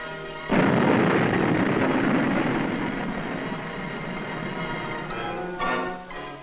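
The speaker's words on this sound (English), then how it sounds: "At a Nike Hercules site, crews participate in a practice firing." Nike Hercules surface-to-air missile launched in a practice firing by an Army crew, a sudden loud roaring blast that sustains as a broad rumbling roar and slowly fades, with a brief later surge.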